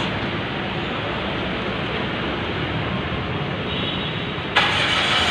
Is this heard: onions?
no